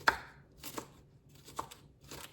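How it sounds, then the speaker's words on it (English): A knife chops seasoning vegetables for pumpkin rice on a board, giving a few sharp, separate cuts at an uneven pace, close and moderately loud with no talking. "So we're gonna begin by just cutting up the seasoning"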